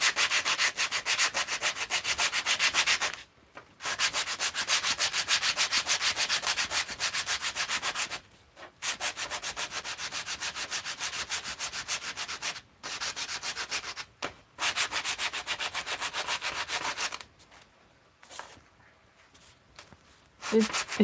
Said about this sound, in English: Actually, let me try and sand with my left hand.